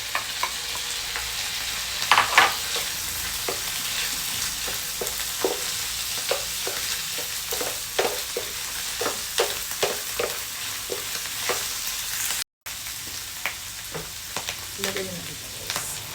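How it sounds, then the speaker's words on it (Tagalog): Mushrooms fry and are stirred in a pan while making creamy carbonara, a steady close sizzle broken by repeated scraping stirs, with a brief gap near the end. "Ilagay natin yung mushroom."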